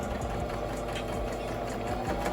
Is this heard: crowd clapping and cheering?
no